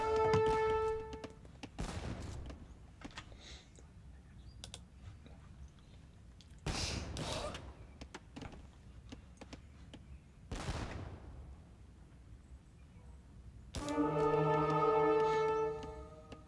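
Organ guns in the Age of Empires III strategy game let off sharp volleys of crackling shots in separate bursts spaced a few seconds apart. Game music and chimes play underneath, and there is no talking.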